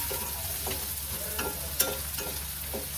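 Vegetables sautéing for a creamy paneer dish, with a steady frying sizzle broken by a few soft stirring scrapes in the pan, close and moderately loud, no talking.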